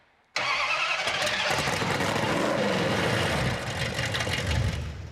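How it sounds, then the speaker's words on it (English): A Dodge Charger engine cranks over with a mini starter motor, a loud continuous whirring churn that kicks in suddenly and runs unbroken for several seconds. "I can hear it's a different starter. It's a mini starter."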